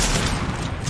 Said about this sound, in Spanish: voy a aprovechar para hacerle headshot a este tipo